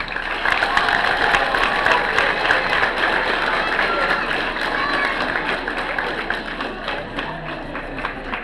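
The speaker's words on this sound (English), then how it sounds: "the class of 2014 would like to applaud and thank you parents" At an 8th grade graduation ceremony, the class of 2014 applauds their parents, producing a steady, dense roar of clapping from a large group that stays even and sustained for over eight seconds.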